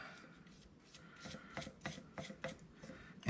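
A brush wet with acetone strokes across the plastic surface of a REO F20 Spartan Series 700 pedestal light, giving soft, close rhythmic scrubbing swipes, about seven strokes growing firmer, with no talking.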